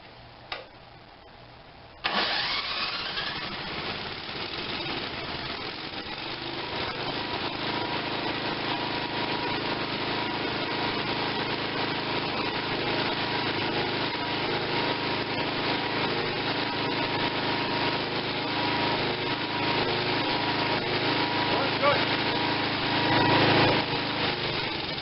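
Tecumseh 5.5 hp small engine, recovering from a stuck valve and low compression, fires up after a quiet moment and settles into a steady, loud, buzzing idle that runs on continuously with a slight surge near the end.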